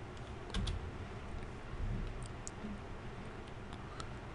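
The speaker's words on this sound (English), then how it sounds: "I'm going to quickly type in some other criteria to narrow our results." Keys on a computer keyboard tap out search criteria in quick, light clicks at close range, a few louder strokes standing out against a soft, steady room hum.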